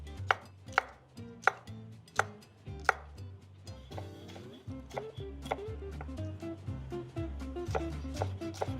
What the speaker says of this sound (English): Just work your knife alongside the exterior of the pepper to remove the ribs, and the core will come out with it.